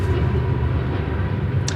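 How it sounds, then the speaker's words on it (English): One train passing another stopped train, a loud continuous low rumble and rolling roar that stays steady throughout, close by, with a brief higher squeal near the end. "one train was going past the other train"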